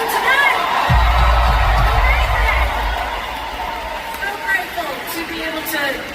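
A large outdoor concert crowd at an amphitheater cheers, whoops and applauds in a loud, sustained roar, with a performer talking over the noise and a deep rumble underneath.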